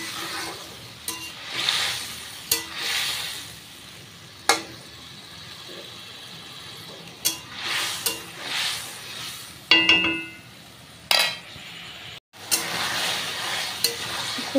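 Pointed gourd and prawn curry cooked down with a little hot water sizzles steadily in a pan, with repeated spatula scrapes and clinks against the metal as it is stirred; no speech.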